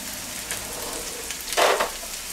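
Bacon and Brussels sprouts frying in a pan, a steady close sizzle with a louder burst of crackling stirred up near the end, no talking.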